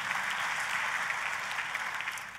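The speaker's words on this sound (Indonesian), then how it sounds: "Tepuk tangannya pula yang paling meriah buat Tuhan kita." A church congregation applauds in a steady, fairly faint wash of clapping lasting a couple of seconds, with no voices standing out.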